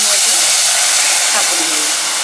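Loud, continuous hissing sizzle of a tempering for pakoda kadhi frying in a hot pan, steady throughout with no pauses.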